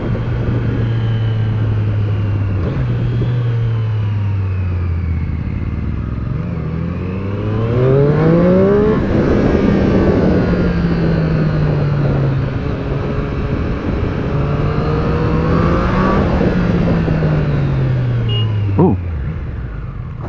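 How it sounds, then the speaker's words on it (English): Triumph Street Triple RS, a 2021 motorcycle, riding with clutchless quick-shifter gear changes: a steady engine drone that climbs in pitch and drops sharply at each shift, repeating several times with rising and falling revs, close and loud throughout. "It's very, very smooth, that clutchless gear change."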